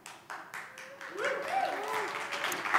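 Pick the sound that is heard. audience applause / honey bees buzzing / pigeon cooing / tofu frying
audience applause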